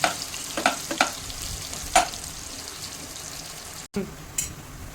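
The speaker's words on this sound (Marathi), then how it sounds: "आता हा कांदा आपण व्यवस्थित परतून घेणार आहोत" Chopped onion sautéing in hot oil for a paneer bhaji, with a steady low sizzle and several sharp stirring scrapes and clinks of a spoon against the pan near the start.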